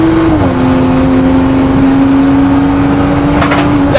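A 400bhp BMW M135i race car on a stage 1 map running on a track, its engine droning loud and steady at high revs with a brief pitch dip near the start, close and continuous.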